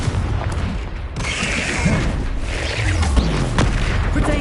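A Confringo spell explodes in the Hogwarts Legacy video game, a loud booming blast with rumbling low end and crackling debris over the full stretch, amid other game effects.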